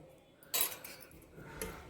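Pepper rasam masala with tamarind being mixed, metal spoon clinking against a steel vessel in a few short scrapes and taps, close and fairly quiet, with no talking.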